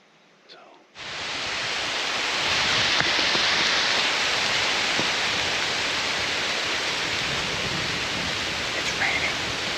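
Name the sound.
heavy rain falling outdoors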